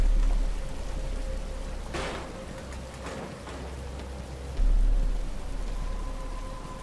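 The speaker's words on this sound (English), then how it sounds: "But it's starting to rain." Steady rain falling in Batman: Arkham Asylum, a constant soft hiss with a low rumble beneath and some brief louder swells.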